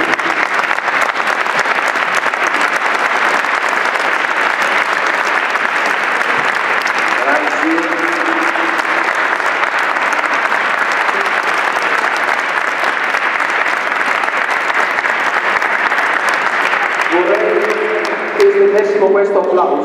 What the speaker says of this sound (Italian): Questo applauso all'autore, editore e produttore del testo, Don Mario.